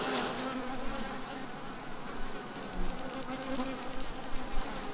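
Honeybees buzz steadily at a beehive, a dense close-up drone of many insects with a few louder passes near the listener, no talk.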